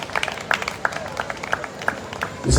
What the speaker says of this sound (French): Merci pour les applaudissements.